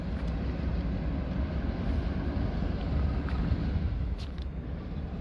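A small Class 08 shunter locomotive engine pulling out toward sidings at Bletchley, a loud, steady low diesel rumble and drone that holds continuously, with some wind buffeting across the microphone.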